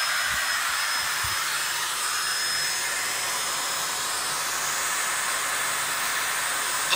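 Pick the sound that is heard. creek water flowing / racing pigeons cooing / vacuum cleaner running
vacuum cleaner running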